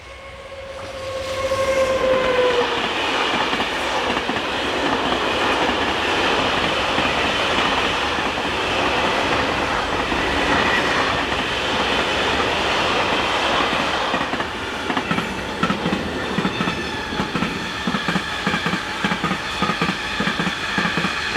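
Locomotive 26177 hauls a mixed train from Bordeaux to Miramar, passing close and loud with a brief horn note near the start, then a steady rumble and rhythmic wheel clatter over rail joints.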